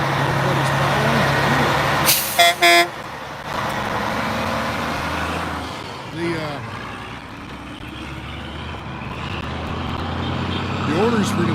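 Trucks pull away in a protest convoy on a roadway, a steady engine rumble with sharp air-brake hisses and passing vehicles, while people talk over the traffic.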